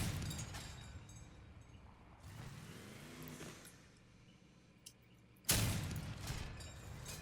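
Heavy cannon shots fired in the vehicle combat game Crossout, with a sharp loud boom at the end following quieter engine rumble and a few distant pops and bursts.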